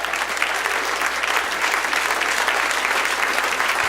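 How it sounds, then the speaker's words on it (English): A comedy and magic club audience claps steadily and loudly, a dense, continuous round of applause with no talking over it. "How about a round of applause for Carrie?"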